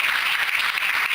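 Church congregation applauding during a service, a brief, dense, even wash of clapping from many hands with no pauses or voices.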